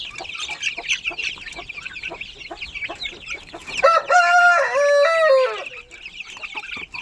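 Hens clucking in short bursts, then a loud nearby rooster crow rises and trails off before the clucking resumes.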